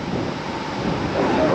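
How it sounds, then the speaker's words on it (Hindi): A swollen river runs fast after four days of heavy rain near Ramgarh road, its rushing roar close and constant, mixed with some wind buffeting. "4 दिन की बारिश का नतीजा है कि इसका बहाव इतना तेज है।"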